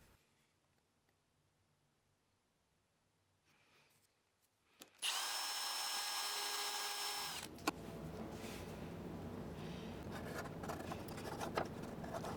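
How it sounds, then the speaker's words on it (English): A quiet start with light handling noises, then a loud power drill whirs steadily for a couple of seconds, chamfering the edges of brass tubing with sandpaper, followed by scraping and rubbing sounds. "I chamfer the edges a bit with my drill and some sandpaper."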